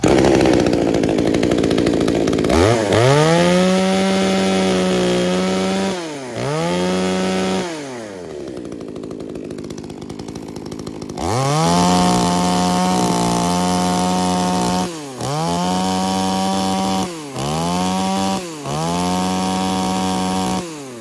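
A used Japanese-market chainsaw, a G1 model, is started and test-run: the engine catches, then revs up and down repeatedly in loud, close bursts with brief idle dips between.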